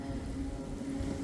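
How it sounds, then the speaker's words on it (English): Steady rain in the aftermath of Hurricane Milton makes a dense, continuous hiss of drops on surfaces nearby, with a low rumble underneath and no speech. "it is raining and I'm getting wet"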